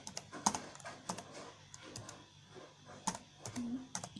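Irregular keystrokes clack on a computer keyboard while a web address is typed in, with uneven clusters of soft clicks and an occasional heavier key press.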